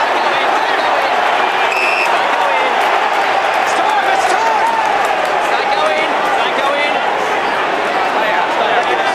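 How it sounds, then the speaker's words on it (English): A crowd at an AFL match between Carlton and Essendon roars steadily, a dense continuous wash of cheering, loud and unbroken, with a commentator's voice over it. "Crowd enjoying this."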